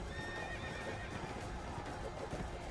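A charging horse gallops and neighs in a Witcher video game, with a rapid clip-clop of hooves and a loud whinny running continuously over a dense, steady background.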